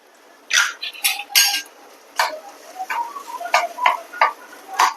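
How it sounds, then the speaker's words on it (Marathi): Cashews and almonds fry in ghee in a pan, heard mostly as a series of sharp metallic clinks and taps of a spoon against the pan, irregular and close, with a faint background hiss. "काजू बदाम ना थोडेसे तुपावर फ्राय करून घेते मी"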